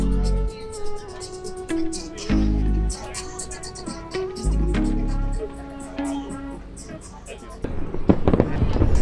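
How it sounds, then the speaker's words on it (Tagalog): Fireworks burst and crackle repeatedly, with booming low thumps between bright pops, growing into a dense crackling flurry at the end. "Ganda ng fireworks."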